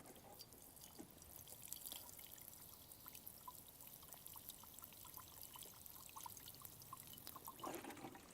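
Water is sprinkled into glass jars, producing a faint, steady trickle with light splashes and drips scattered through the pour, heard quietly and alone.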